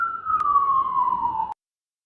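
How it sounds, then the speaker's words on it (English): A single siren tone slowly falls in pitch as it drifts past, steady and moderately loud, then cuts off abruptly into silence. "It was the sirens."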